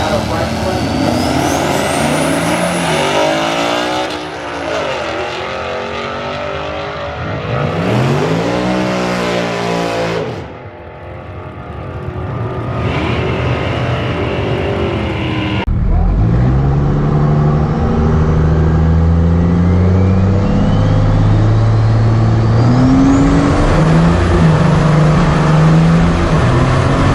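A VE truck makes a drag racing pass, its engine revving up through rising gear sweeps with sharp shifts, then a steady loud drone as it runs on, with a voice speaking over parts of it.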